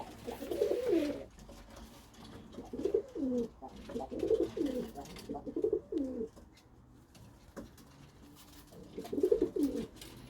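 Pigeons in a loft coo in low, rolling phrases, about five separate bursts spaced a second or two apart and heard close, with faint shuffling between calls.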